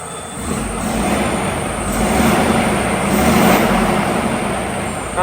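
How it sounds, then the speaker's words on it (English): Heavy goods vehicle diesel engine idling close by with a leaking exhaust, giving a steady, loud, broadband rumble and hiss that holds evenly throughout. "Now we've got a bit of an exhaust flow."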